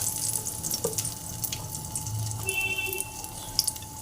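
Chopped dried red chillies go into hot oil in a pan and set off a steady watery sizzle with faint crackles close by. A brief higher hiss comes partway through.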